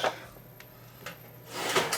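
A metal drawer in a garage tool chest slides open or shut with quick scraping rattles, a short burst at the start, faint clicks in the middle, then a longer sliding rumble near the end, close by.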